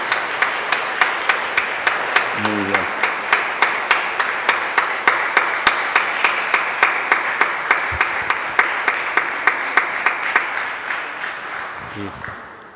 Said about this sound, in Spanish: Podemos dar un aplauso para Maximiliano, el seminarista